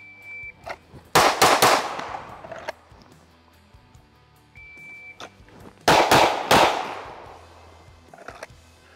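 Two pairs of sharp, loud Springfield Armory Echelon pistol shots crack out on an outdoor range during a duty qualification course, separated by a few seconds of quiet.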